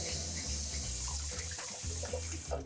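Tap water runs steadily into a kitchen sink while fruit and vegetables are rinsed under it, a continuous close splashing rush with small shifts as the produce is moved in the stream.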